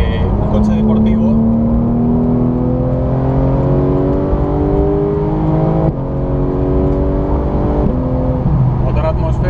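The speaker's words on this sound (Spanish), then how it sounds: "Motor atmosférico, escucháis cómo sube de vueltas" A Porsche 911 GT3 with a naturally aspirated engine revs hard on the Aldenhoven test track in Germany, pitch climbing steeply through repeated gear pulls, loud and close, with someone talking over it.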